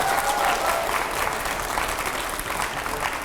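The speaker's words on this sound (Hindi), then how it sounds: "मैं चाहूंगा पहले तो जोरदार तालियां होनी चाहिए" Loud, steady applause from a studio audience at a televised TV9 interview session, a dense wash of clapping that holds evenly for about three seconds with no voices over it.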